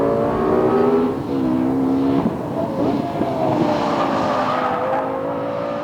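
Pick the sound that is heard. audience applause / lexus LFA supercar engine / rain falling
lexus LFA supercar engine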